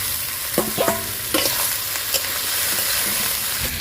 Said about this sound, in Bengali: এবার এই সবজিগুলো দিয়ে দেব।